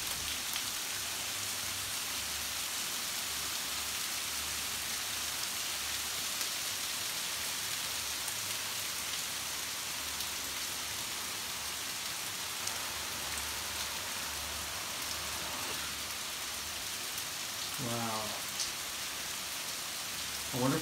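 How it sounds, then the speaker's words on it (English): Heavy rain pours steadily outdoors, a dense, even hiss of drops on surfaces with no breaks, fairly quiet overall, while a few faint chirps or squeaks surface near the end. "it is raining so hard right now"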